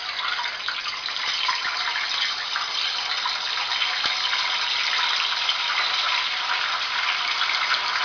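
Tofu pieces sizzling steadily in hot frying oil, a dense continuous hiss with a faint pop, close and constant throughout.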